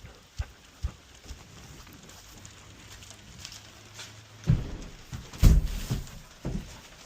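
Donkey hooves clopping on ground in rainy weather, a few irregular steps that grow louder and nearer toward the end amid soft background patter.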